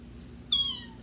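A cat in a told story gives a single short meow partway through, bright and fairly close, over a quiet low hum with no talking.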